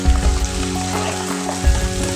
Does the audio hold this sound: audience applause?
no